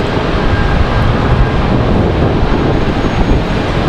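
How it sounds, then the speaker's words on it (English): A Republic Airways Embraer E175LR regional jet lands at Charlotte, a steady loud rumble of engine and rushing air that sounds near and constant, with no voices. "Our next arrival, Republic Airways at 5848 coming in from New York."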